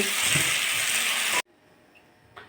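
Bay leaf tempering sizzles loudly in hot oil for about a second and a half, then cuts off abruptly, leaving only a faint background hum and one soft clink.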